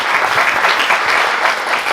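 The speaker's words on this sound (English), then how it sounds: "Let's give them a round of applause." An audience at a speaker event claps in sustained, dense applause, loud and close, filling the whole moment without any talk over it.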